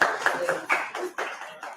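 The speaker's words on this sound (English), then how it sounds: "Give him a big round of applause." Several bursts of clapping hands in quick succession, a short lively round of applause from a small group.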